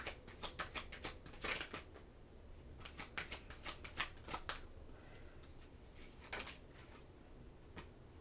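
Oracle cards are shuffled and drawn by hand in a quiet room. Soft papery riffles and snaps come in short bursts with gaps between them, close and faint, with no talking.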